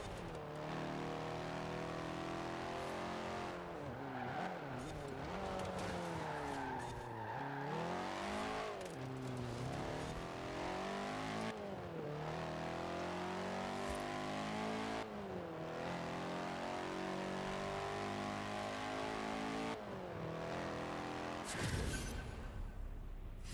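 Lancia Fulvia in stock form driven in Forza Horizon 4, its engine revving up and down through repeated gear changes, loud and continuous with rising and falling pitch.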